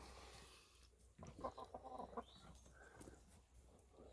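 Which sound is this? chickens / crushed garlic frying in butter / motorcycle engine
chickens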